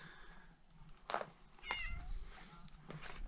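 A cat meows a few times at an old roadside station in Golden Valley, Arizona, short harmonic calls at moderate distance over faint outdoor background noise.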